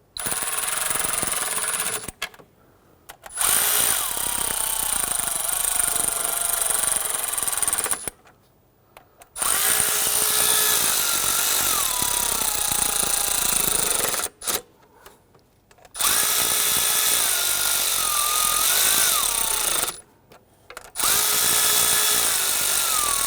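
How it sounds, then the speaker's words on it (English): Power tool running bolts down on a 2011-2017 Nissan Quest 3.5L V6 during ignition coil boot replacement: loud, steady whirring bursts of several seconds each, repeated four times with brief pauses between. "Now I am going to use a power tool to gently run them down"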